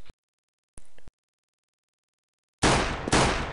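Gunfire in a Counter-Strike esports match at The Blast 2013 tournament: two short shots early on, a pause, then two loud, dense bursts of shooting close together at the end.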